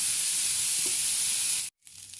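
Prawns fry in a pan, half-cooked as the first step of a prawn roast, giving a steady bright sizzling hiss that cuts off abruptly near the end before a quieter sizzle resumes.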